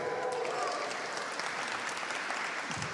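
A crowd at a State House legislative reception cheers and applauds in a steady, dense wash of clapping that fills the whole stretch, with some voices mixed in.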